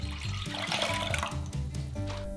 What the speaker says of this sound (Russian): Выливаем в сотейник